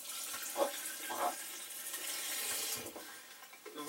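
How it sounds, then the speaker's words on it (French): Tap water running into a baby bottle at a kitchen faucet, a steady splashing, gurgling stream with a few louder pours, close by and with no talking. "Donc vous remplissez d'eau, comme ça, l'eau de source, de votre robinet"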